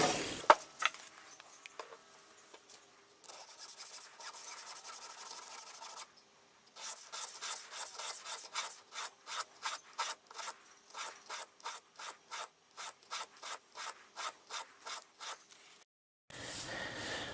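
A knife blade is worked back and forth on a 1200 grit diamond stone, giving steady rhythmic rasping strokes, first irregular then a long run of evenly spaced scrapes, close and clear with no talk.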